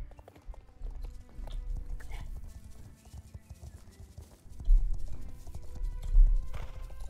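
Horse hooves clip-clopping steadily at a riding pace in the Star Stable Online video game, a continuous rhythmic patter that grows louder toward the end over faint background game music.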